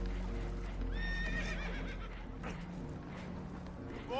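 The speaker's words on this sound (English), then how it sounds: "Horses are spooked" Spooked horses in the Red Dead Redemption II video game whinny shrilly several times among wooden creaks and clip-clop sounds, with a rising neigh returning at the end over a low ambient rumble.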